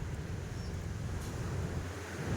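Waves at a small beach, a low steady wash of surf mixed with wind buffeting the microphone, faint and continuous with no voices.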